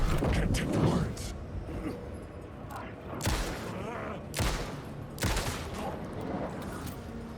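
Gunshots in the video game Alan Wake 2, three or four sharp single reports spaced about a second apart, mixed with mechanical clicks and creaks over a dense, murky background.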